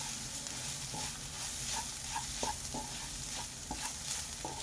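Mushroom masala spices with pepper powder frying in a pan, a soft steady sizzle with repeated scraping knocks of a spoon stirring against the pan, quiet and close with no talk.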